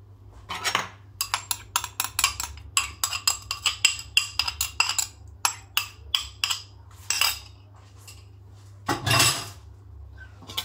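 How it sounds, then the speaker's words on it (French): Eggs and butter are mixed for apple cake batter, likely in a bowl, with a rapid run of clinking and tapping strokes against the bowl. Short bursts pause briefly, then the clatter resumes at close range with no talking. "Je mélange le tout."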